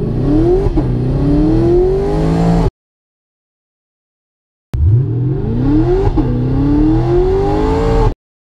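A Chevrolet Camaro launching in a 0-60 acceleration run, heard twice: a loud, close engine roar climbing through the gears with a shift dip each time, separated by about two seconds of silence.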